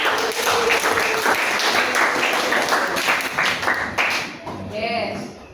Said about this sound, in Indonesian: sekali lagi tepuk tangan buat kita semua